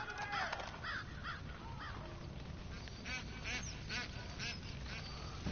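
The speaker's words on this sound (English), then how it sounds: "I just heard a couple of geese, you better watch out." A couple of geese honk and call repeatedly in the Far Cry 5 video game, a run of quacking, cawing bursts over a muffled, noisy game background.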